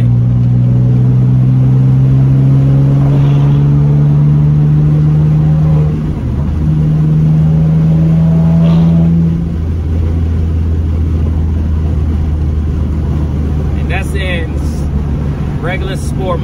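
A BMW M3 in sport mode accelerates without full throttle, its exhaust droning steadily with a rising rev sweep, running continuously and fairly loud, with a voice speaking briefly over it.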